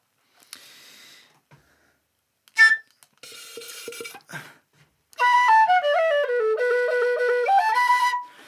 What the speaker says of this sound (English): I'm going to continue now with a set on the whistle